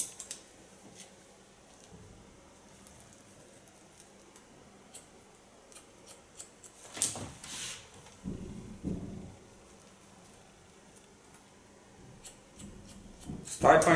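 Scissors snipping hair during an asymmetric pixie haircut, giving soft, irregular close-up clicks and slicing cuts spread through the clip, with a few louder handling noises.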